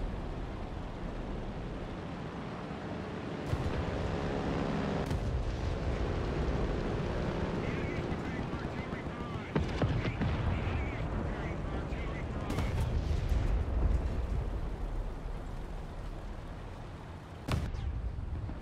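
Tank cannon fire in War Thunder, with a Sherman M4A2 in a single match: several sharp booming shots land amid a constant rumbling engine and battle din, while someone talks over it.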